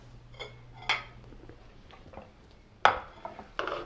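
A plate and a frying pan clatter as a creamy omelette is served, with a few sharp knocks and scrapes spaced across a quiet kitchen, the loudest clack near the end.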